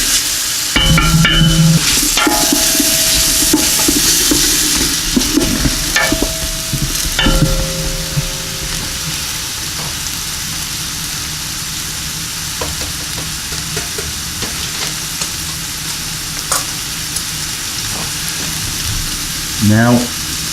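Onions sizzling and frying in a pan for a homemade meat pasta sauce, with steady close sizzle and occasional stirring scrapes and clinks throughout.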